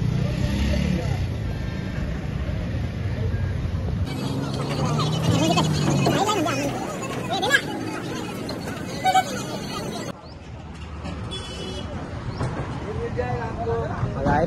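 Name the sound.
cars passing by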